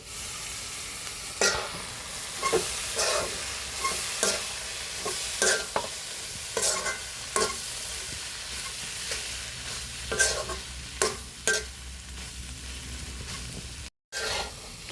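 Broiler chicken pieces being stirred in a hot frying pan, a utensil scraping in repeated strokes over a steady close sizzle, with a brief dropout near the end.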